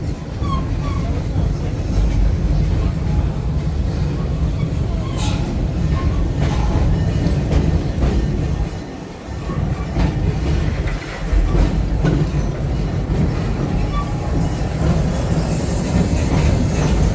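A miniature park ride train rumbles along the rails with a loud, continuous roar and faint clatter, heard from on board, briefly dipping before resuming.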